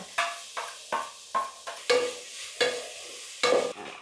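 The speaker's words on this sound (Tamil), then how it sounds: "அதையும் கொஞ்சம் நல்லா எண்ணெயில் வதக்க விடுவோம்" Chicken for chicken rolls being sautéed in a little oil, with about eight distinct scraping stirs of a spatula across the pan over a low sizzle, evenly paced, close by and free of talk.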